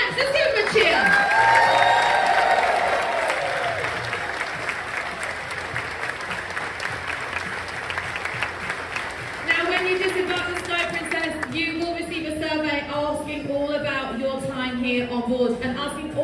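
A cruise ship audience aboard the Sky Princess breaks into loud applause and cheering that fades over several seconds. A presenter's voice then talks over the last of the clapping.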